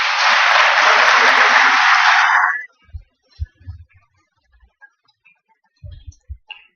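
Audience applause at a 2019 archives symposium panel, a dense, steady clapping that fills the first two and a half seconds and then stops abruptly, followed by scattered low thumps and small handling noises.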